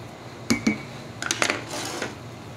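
Milk and sugar being stirred together in a pot for a chocolate cake syrup, with a few light metallic clinks and scrapes of a spoon against the pot, close and fairly quiet.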